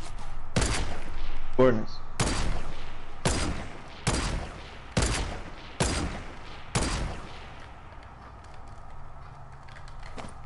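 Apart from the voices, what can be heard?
gunfire from the video game Fortnite Battle Royale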